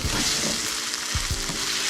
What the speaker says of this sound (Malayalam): ഇനി ഇതിലേക്ക് നേരത്തെ ചതച്ചെടുത്തിരുന്ന ഇഞ്ചി വെളുത്തുള്ളി എല്ലാം കൂടി ഇട്ട് കൊടുത്ത് വീണ്ടും ഒരു 10 മിനിറ്റ് നേരം കൂടെ വഴറ്റിയെടുക്കണം